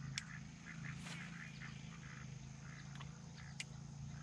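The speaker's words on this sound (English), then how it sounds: "You gonna scare away those ducks or what?" Ducks quacking on a lake during a fishing outing, a few short calls scattered over a steady low hum of outdoor background noise.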